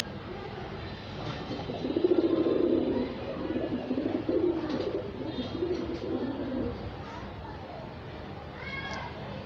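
A pigeon coos in a low, throaty burst, with a second softer bout moments later, heard fairly close in a dim space over a faint background murmur.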